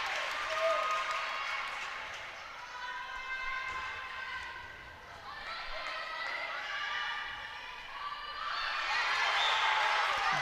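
A netball crowd at a Gibraltar versus Isle of Man match applauds and cheers in a broad, rolling wash that swells and dips, with a commentator's voice talking over it.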